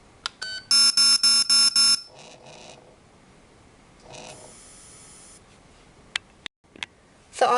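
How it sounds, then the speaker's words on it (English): Aetertek AT 218S remote dog training collar beeping, a quick series of four loud electronic beeps followed by softer buzzing tones and a few clicks, close and clear. "If we want the beeping, vibration, and the shock to be used at the same time, we can press the compound button."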